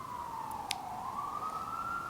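Emergency vehicle siren, a fire engine or ambulance, sweeping in a steady wailing tone that dips then rises as it passes at moderate distance, with a couple of faint higher chirps early on.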